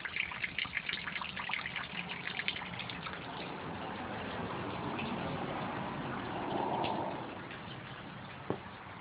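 Spring water at Mount Vernon Springs trickles steadily into a drain, a continuous close splashing wash with a few brief drips and gurgles rising near the end.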